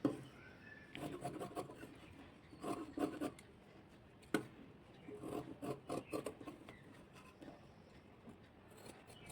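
Scissors cutting through blouse fabric, a steady rasping, rubbing snip sound repeating through the clip, close and fairly quiet.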